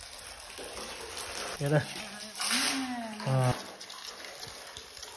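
Water gushes steadily from a pipe in a wintry mountain village, making a continuous rushing splash close by while people talk over it.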